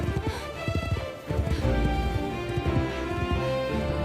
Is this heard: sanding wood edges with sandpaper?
no